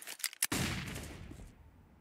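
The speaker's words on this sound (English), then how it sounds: "Silas has gotten one, spammed down through the vent" Counter-Strike gunfire on the Nuke map during an ESL Challenger match: a few quick sharp shots, then a loud burst of fire that trails off into echoing reverb.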